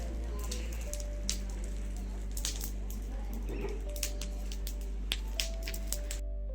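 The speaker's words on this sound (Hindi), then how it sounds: "चंपावत में शुरू हो गई है बारिश झमाझम" Evening rain begins falling in Champawat as a soft patter of drops on surfaces, with scattered sharper ticks over a constant low hum.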